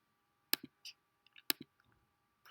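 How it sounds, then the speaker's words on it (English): Calculator keypad tapped while entering an equation: two sharp key clicks about a second apart, each followed by softer taps, in a quiet room with a faint hum. "let's grab our calculator and type our equation into y equals"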